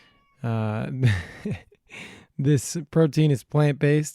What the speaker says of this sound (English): And that is my cat in the background there.